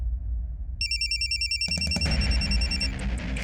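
Telephone ringing indoors in a police station scene, a clear electronic ring tone in repeated short bursts, close and loud over low room noise, with no talk.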